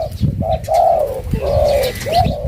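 A Thai decoy dove being trained for trapping coos repeatedly, clear nearby calls in a short rhythmic series of low hooting phrases over steady background noise.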